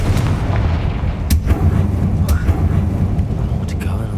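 Confringo blasting curse explosions in Hogwarts Legacy gameplay: several heavy booming blasts ring out over a dense, continuous rumble of game ambience, with a voice speaking in between.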